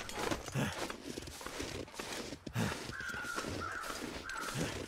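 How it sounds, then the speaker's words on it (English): Crows caw repeatedly in the video game The Long Dark, a few rough calls spaced out over steady background ambience with soft footsteps. "I hear the crows."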